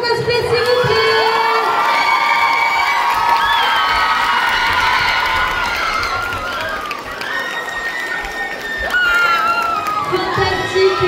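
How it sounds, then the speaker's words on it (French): A lively crowd at a fantasy and Japanese pop-culture convention cheers, whoops and applauds cosplay contest participants, with shrill excited shouts and whistles over continuous clapping, loud and close. "on va applaudir tous les participants à ce concours cosplay"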